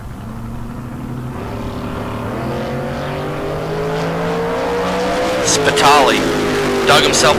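A Roadster and a 1973 Camaro launch side by side at a Tucson bracket drag race, engines droning steadily and rising in pitch as they pull away, with a commentator talking over the roar and brief tire chirps near the end.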